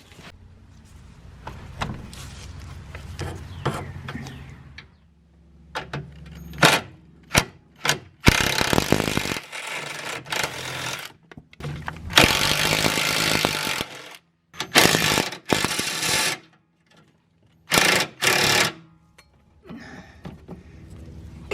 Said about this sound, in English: Get them all started and then we can use a ratchet.